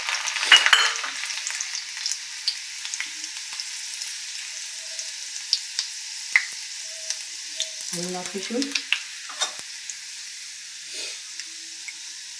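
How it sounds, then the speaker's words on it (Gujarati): Garlic crackles in hot oil as tempering for a brinjal bharta (ringan nu oro), a soft sizzle with scattered pops and stirring clinks; someone briefly speaks partway through. "હવે આપણે તેલ આવી ગયું છે, હવે લસણથી આપણે વઘાર કરીશું"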